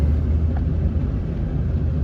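A cold Studebaker engine idles after a remote start at 34 below zero, a steady low rumble holding evenly throughout with no talk.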